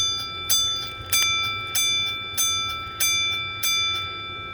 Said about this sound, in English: There's your motion sensor for the bell and the lights.